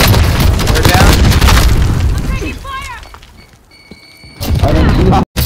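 Semtex grenade going off in an online shooter game, a loud booming blast with crackling debris that fades out, followed by gunfire-like bursts and game sounds while players talk over the action.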